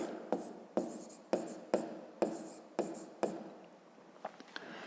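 A pen writing on paper while solving a fifth-grade maths exercise: a series of about eight crisp scratching strokes with short pauses between them, close and quiet, then a few light taps.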